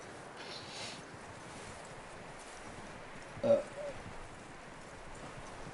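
Horse hooves clip-clop softly in Red Dead Redemption 2, a faint, steady plodding under wind-like background noise, with one brief louder knock midway.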